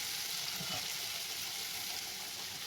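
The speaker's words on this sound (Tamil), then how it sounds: "பச்சை மிளகாய் போட்டு ஒரு 1 நிமிஷம் வதக்கினா போதும்" Steady sizzling of green chilies frying with guava pieces in a pan for chutney, a continuous bright hiss with faint stirring, close and even throughout.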